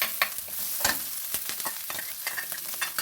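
Coconut paste and curry leaves frying in a pan for jackfruit thoran, a steady close sizzle broken by repeated sharp scraping stirs across the whole stretch, with no talk.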